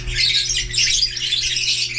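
A gamefowl rooster with a splayed leg squawks in harsh, scratchy bursts, close and fairly loud, over a low steady background hum.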